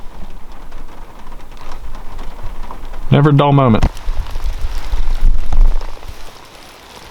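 Sleet or hail falling outdoors in Nebraska during a turkey hunt, a steady patter of icy pellets on surfaces, with someone speaking briefly over it.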